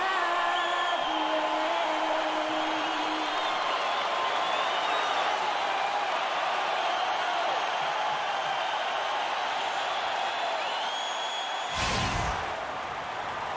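Dense crowd roar from an arena crowd in the NBA 2K16 basketball video game, a Brooklyn Nets home game in Brooklyn, New York, steady and loud throughout with a sharp thud near the end.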